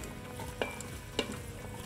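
Onions, celery and carrots soften in an Instant Pot with a quiet, steady sizzle, broken by two light clinks of a utensil against the pot.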